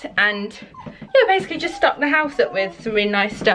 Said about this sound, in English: you can hear my dog crying his eyes out because he wants to go in the kitchen